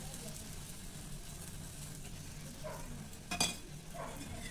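Ghee sizzles on a paratha in a hot pan as a steady, fairly quiet frying hiss, with a brief scrape or clink of a utensil partway through.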